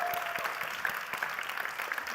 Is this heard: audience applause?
yes